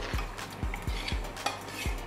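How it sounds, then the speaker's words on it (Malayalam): Sambar vegetables being stirred in a cooking pot, with a metal spoon knocking the pot in a steady rhythm of about six clear scrapes and clinks, close by and moderately loud, with faint sizzling underneath and no talk. "നമുക്കിനി ഒന്ന് ഇളക്കി നോക്കാം."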